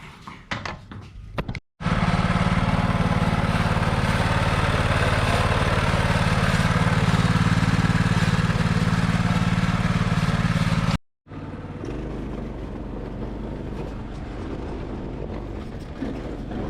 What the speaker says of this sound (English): We'll move the chocks behind and in front of the wheel, start it up, and we're going to go for a test drive,